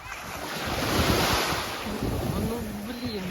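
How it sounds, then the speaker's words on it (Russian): Sea waves wash onto the beach at Olenevka in a steady, close surf roar with wind buffeting the microphone, and a voice speaks briefly over it toward the end. "Самое лучшее море в Оленевке."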